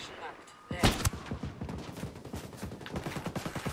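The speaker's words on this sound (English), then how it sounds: "Sniper's about to shoot" Sniper gunfire in the video game Ghost Recon Breakpoint, one loud sharp shot followed by a rapid string of further gunshots, close and punchy, filling the rest of the moment.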